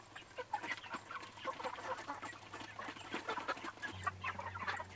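A flock of mostly roosters with some hens clucks and murmurs continuously on a pasture, many soft overlapping calls close by with a low background hum and no speech.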